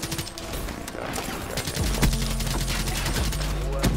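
Sustained bursts of automatic gunfire in Call of Duty Black Ops 3, loud and rapid, growing heavier partway through with repeated sharp shots.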